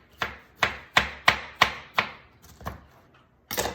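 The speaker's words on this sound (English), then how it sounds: "So I like to cut it into these little spears" Knife cutting cantaloupe into spears on a board, with about eight crisp, evenly spaced chops close up, slowing and softening after the first six, then a final louder cut after a short pause.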